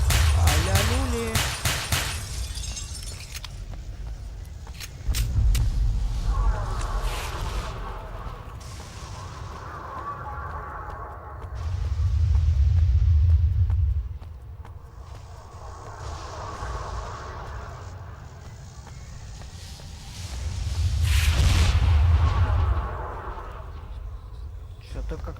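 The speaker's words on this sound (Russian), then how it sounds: "Что-то как-то долгий этот пси-шторм, я вам скажу, товарищ." A psi-storm rumbles in the S.T.A.L.K.E.R. Wind of Time game, with deep low booms rolling in and fading at intervals over crackling ambience, while someone talks throughout.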